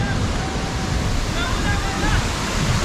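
Yadim waterfall in northeastern Nigeria sends up a steady, loud broadband rush of falling water, constant and close, with no pauses across the whole stretch.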